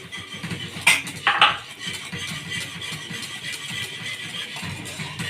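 A whisk stirs a starch mixture in a cooking pot, with a few sharp metal clinks against the pot early on, then softer continuous stirring.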